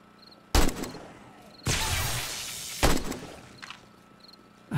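Gunfire bursts during a nighttime horde attack in 7 Days To Die, loud volleys of shots at about half a second, a longer sustained burst near two seconds, another near three, and a final one at the end, with a quiet lull between.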